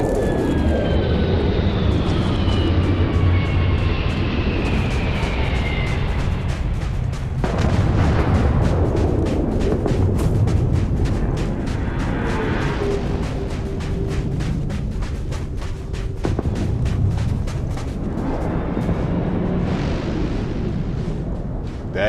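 A spaceship touches down in the video game Starfield, a loud sustained roaring engine rumble with booming blasts that swells and shifts across the whole stretch, no talk over it.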